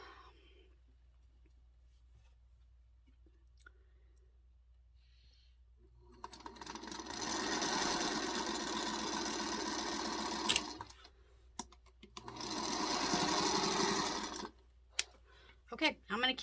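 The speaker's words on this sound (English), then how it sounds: "I'm going to keep sewing these together" A sewing machine joins quilt block squares in two steady whirring runs of a few seconds each, close and clear. Quiet pauses and small clicks fall between the runs.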